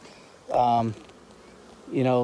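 Two short bursts of honey bee buzzing pass close by a hive box, each lasting about half a second, with quiet between them.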